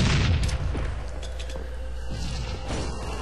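Gunfire in a shooter video game, a burst of loud booming shots at the start followed by a sustained rumbling game soundscape with faint further shots, no talking.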